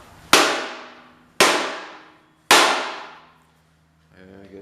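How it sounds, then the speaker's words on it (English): Three evenly spaced, loud metallic clangs ring out as a brass mallet strikes a metal part on a 1968 110 tractor lift assembly. Each ring fades slowly, and a faint voice begins at the end. "the old brass mallet. So give it a good smack right there and it should drop."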